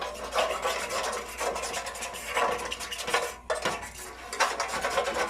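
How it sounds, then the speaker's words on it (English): A fork scrapes the bottom of a pan of brown stock, a close, busy scratching and rubbing with a brief pause midway, no voices. "I suggest you use a fork. That way, it'll be very easy to scrape."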